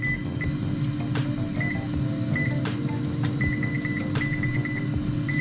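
A home oven sounds a run of short, high electronic beeps as it is switched off, several isolated chirps then a quick string of them, over a constant low humming drone and a few sharp clicks.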